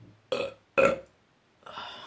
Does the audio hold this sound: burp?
yes